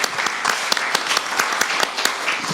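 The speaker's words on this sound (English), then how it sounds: "Please give him and the panel a warm round of applause." Audience applause for a stablecoin panel at a crypto event, with dense steady clapping and sharp individual claps standing out, sustained and fairly loud throughout.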